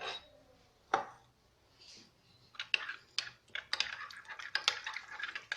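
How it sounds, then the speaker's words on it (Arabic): Utensil stirring escalope ingredients with salt, grated cheese and eggs in a bowl for an oven-baked cheese dish: irregular close clicks, taps and scrapes against the bowl, sparse at first and then busier, with no talking. "نخلط كلش مليح"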